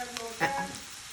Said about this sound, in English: so there is our onions. They're frying and sauteing away.